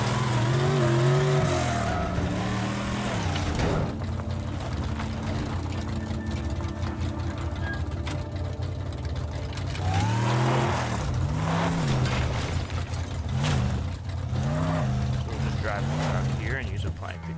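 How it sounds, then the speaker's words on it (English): A car in the video game Teardown drives and revs, its engine tone rising and falling in pitch, with strong surges near the start and again in the middle over continuous motor drone. "I'm gonna park a car right basically under this roof."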